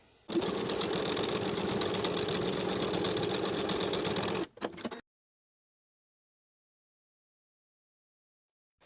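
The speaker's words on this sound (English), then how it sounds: "start from the upper edge and stay stitch to the center" A sewing machine stay stitching a blouse neckline runs in one steady, fast, loud burst for about four seconds, stops, gives a brief second whir, then falls silent.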